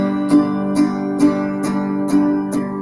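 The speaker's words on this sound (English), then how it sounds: "So if the full strum would sound something like this" A guitar strummed full with the same chord ringing out, six even strums about half a second apart, each a bright attack over a sustained chord, played alone.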